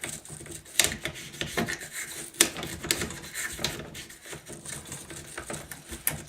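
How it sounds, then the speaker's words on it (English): An all-purpose brush scrubs the gas tube of an AR-15 rifle during cleaning, giving close, steady bristly rubbing and rasping strokes in quick irregular bursts, with no talking. "I'm going to get in there as good as I can with the all-purpose brush"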